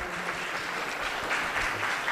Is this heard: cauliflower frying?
no